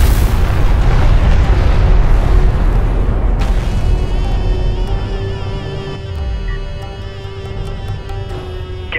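A cruise missile launch in Homeworld: Deserts of Kharak, a loud, sustained roaring rumble that fills the whole stretch and slowly eases, topped by fainter mechanical whines and tones and a few sharp ticks near the end.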